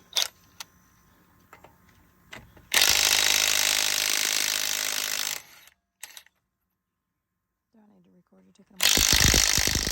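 An impact wrench whirs loudly for a few seconds at a time while removing the 23 mm lug nuts from a 2013 Buick Enclave wheel, with clinks of metal and a person talking between the bursts.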